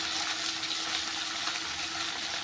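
Small mourala fish in hot oil give off a steady, bright sizzling hiss, constant and moderately loud throughout with no talk.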